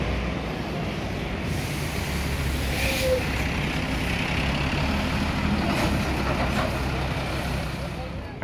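A Harapan Jaya bus idles at Purboyo bus terminal in Madiun, a steady low engine rumble set in busy terminal ambience, with a faint air-brake hiss partway through.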